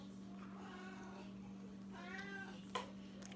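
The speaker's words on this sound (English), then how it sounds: "cat's in the house" A house cat meows twice, soft and a little distant, over a steady low electrical hum, with a small clatter near the end.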